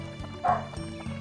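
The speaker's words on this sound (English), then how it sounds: "Dogs are barking." Dogs in the video game Dark Cloud bark in a short run of sharp, moderately loud yips over a steady in-game background hum.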